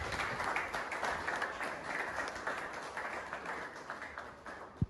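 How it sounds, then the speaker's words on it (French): Steady applause from a gathered audience honoring a mentor at a sports club ceremony, continuous dense clapping of moderate loudness that holds evenly throughout, with one sharp knock near the end. "acclamons pour lui"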